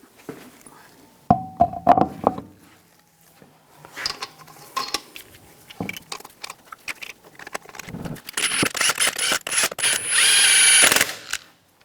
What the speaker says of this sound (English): Now I'm going to torque the lug nuts to 140 foot-pounds in a cross pattern to tighten the wheel down evenly.